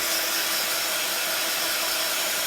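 A steady, loud blowing whir of a hair dryer drying paint on a canvas, running continuously at close range with no breaks.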